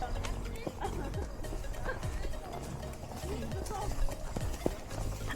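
Ponies' hooves clip-clop at an unhurried walk close by, a loose run of hoof strikes over a rough outdoor background while people talk.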